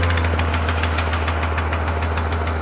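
A Honda engine driving a hot air balloon inflator fan runs close and loud, a steady idling rumble with rapid rhythmic knocking pulses and no voices.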